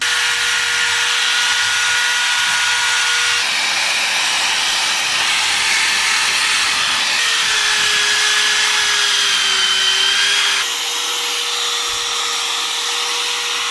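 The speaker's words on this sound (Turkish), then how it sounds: "tel fırçayla, drille iyi bir temizleyeceğiz" Electric drill fitted with a wire brush scrubbing an engine block before spray painting, a steady loud whirring hiss with a constant motor whine that shifts pitch slightly as pressure changes, running without pause throughout.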